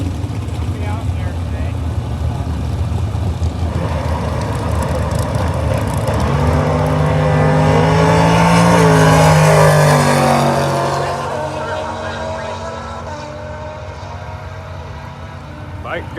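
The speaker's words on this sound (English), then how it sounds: "Bike versus truck." A motorcycle and a truck launch side by side in a bracket drag race, their engines swelling into a loud roar that peaks and then fades off down the track while an announcer talks over it.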